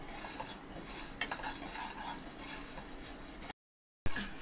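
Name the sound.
white sesame seeds being dry-roasted in a pan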